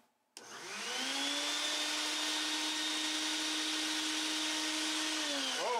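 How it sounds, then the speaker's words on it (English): A Bucket Boss shop vac switches on with a click and runs at a steady, loud whine with a constant motor drone for several seconds, then cuts off abruptly at the end. "I'm just going to turn on the shop vac here, the bucket boss"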